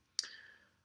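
A single sharp computer mouse click, close and faint, with a short ringing tail fading into near silence.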